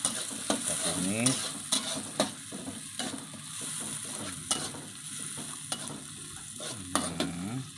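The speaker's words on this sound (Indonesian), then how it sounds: "masukkan ini bawang dan bumbu-bumbu lain ini dimasukkan, kita tumis hingga wangi" Onions and spices sauté in a pan, a soft steady sizzle broken by repeated scraping and stirring strokes of a utensil against the pan, close and fairly quiet.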